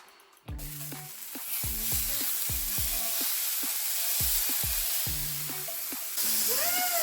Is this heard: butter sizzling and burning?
yes